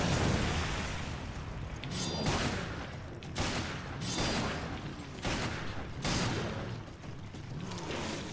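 Serpent handgun shots ring out in Resident Evil Revelations, a series of booming reports spaced irregularly about a second apart over a dense game soundscape, with no voice.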